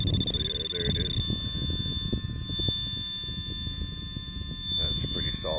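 A metal detector sounds a steady, sustained high tone throughout while a person talks over it nearby, during metal detecting at Port Burwell.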